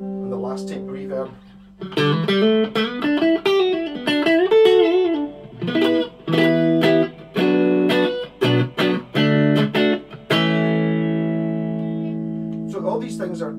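Electric guitar played through a Blackstar ID Core 10 amplifier with tape reverb engaged, a series of picked notes and chords ringing with echoing tails, the final chord sustaining and decaying slowly.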